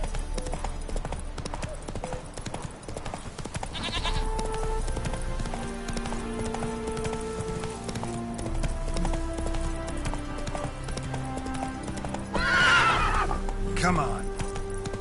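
Roach, the horse in The Witcher 3, clip-clops along at speed and lets out a sharp neigh near the end, hooves steady under game music while someone talks.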